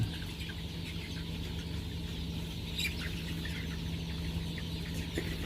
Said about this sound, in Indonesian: Ini ayam pejantan. Ayam pejantan umur sekitar 1 bulan.